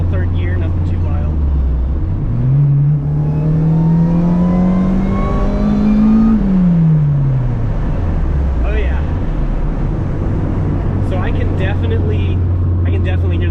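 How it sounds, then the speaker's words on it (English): Supercharged Acura RSX with a new exhaust accelerates in third gear, a loud, near engine and supercharger whine rising steadily over a few seconds and then easing off back to a low drone. "I can definitely hear the supercharger a lot better now"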